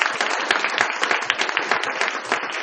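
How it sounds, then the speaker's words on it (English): A school symposium audience claps in a dense, sustained round of applause, fairly close and even throughout. "Let's give a big round of applause to our PTSA and our SAC for setting this up tonight."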